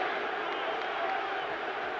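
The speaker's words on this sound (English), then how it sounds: "USA, they're shouting." A rugby stadium crowd roars in support of the USA Eagles against South Africa in 2001, a dense, distant wash of chanting and shouting that holds steady throughout.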